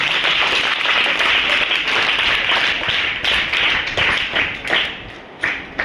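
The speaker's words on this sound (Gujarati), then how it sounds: "તો તેમનું તાળીઓથી આપણે શરૂઆતમાં અભિવાદન કરીએ" Audience applause welcoming guests at a school mental health and suicide prevention training event, a loud, dense crowd clapping that thins into scattered individual claps toward the end.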